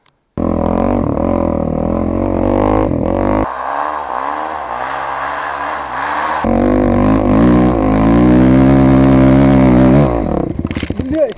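An enduro motorcycle converted to a snow track revs hard and close, its engine note rising and falling through several throttle bursts as it pulls away, loud throughout with a short voice at the start.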